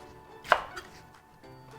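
Two sharp knife chops through boiled butterbur stalks on a cutting board, close and distinct with a short pause between them.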